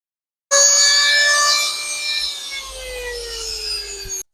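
A router cutting through an oak end grain chopping board with a dull bit, a loud steady high-pitched whine starting abruptly and holding for about four seconds with a slowly falling tone, no voices.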